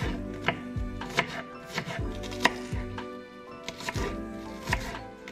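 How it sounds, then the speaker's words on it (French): A knife finely chops green onions on a board in crisp, close, fairly regular strikes, with no one talking. "on va les couper finement tout simplement"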